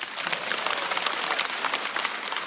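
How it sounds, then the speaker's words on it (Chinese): A studio audience at a stand-up comedy show applauds, giving dense, steady clapping that fills the whole moment. "再次掌声送给"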